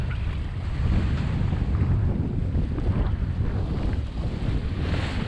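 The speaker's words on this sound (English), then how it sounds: "Big ocean swells." Wind gusts over the microphone with the rumble of big ocean swells during a sailboat passage in the Caribbean between Bequia and St Lucia, a loud, continuous roar with no talking.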